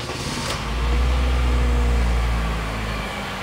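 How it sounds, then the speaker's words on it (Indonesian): A 2013 Honda Freed E PSD facelift minivan engine starts with a short starter click, then settles into a loud, steady low idle rumble close by. "Saya akan nyalakan mesinnya."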